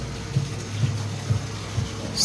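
Water pours steadily from a Vivosun 800 GPH submersible pump through a short hose and 1.5-inch PVC pipe onto a driveway during an aquarium water change, a continuous close gush with faint periodic surges.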